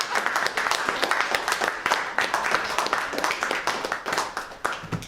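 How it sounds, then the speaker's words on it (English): A lively round of applause from a gathered audience, dense rapid clapping that stays loud and steady and eases off slightly near the end. "Round of applause."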